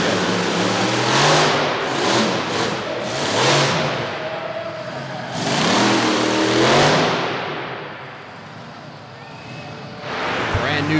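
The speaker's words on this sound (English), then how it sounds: "That awesome new looking Stomper monster truck, Joe Nichter kicks it off with the nose in the air." Stomper monster truck's big engine revving hard at the start of a monster truck nationals show in Corbin, Kentucky, loud surging roars rising and falling in waves over crowd and arena noise, with a voice talking over parts of it.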